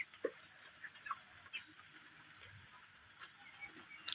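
Chickens in a poultry farm shed with litter bedding cluck faintly and sporadically, with a few short, scattered calls over a quiet background.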